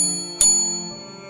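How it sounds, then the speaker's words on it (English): A concierge bell from the video game Little Nightmares 3 rings once in the distance, a single bright ding with a ringing tail that fades over a steady, droning tonal ambience. "you then hear the concierge bell ring in the distance"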